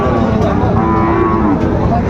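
Sahiwal cattle low in a loud, drawn-out moo close by at a Dinajpur cattle market, set against the steady hubbub of the crowd.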